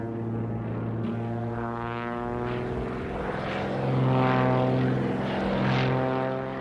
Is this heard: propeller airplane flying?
yes